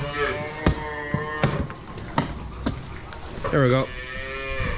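Calves moo repeatedly inside a barn, loud and close, with a long drawn-out call near the end and rhythmic knocking thuds between the calls; someone speaks briefly.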